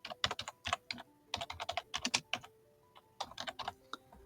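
Bursts of typing on a computer keyboard while renaming a step in a web-scraping tool, close and clear, with quick irregular clusters of keystrokes separated by short pauses and no talking.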